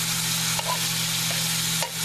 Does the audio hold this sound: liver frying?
yes